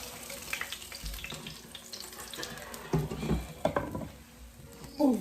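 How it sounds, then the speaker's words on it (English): Fish browning in a frying pan for Jamaican brown stew fish, a low steady sizzle with occasional clatters and scrapes as pieces are moved about the pan. "My fish is done browning."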